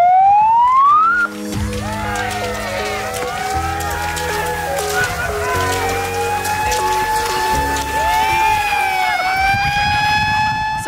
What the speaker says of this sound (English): You will start when you hear the siren.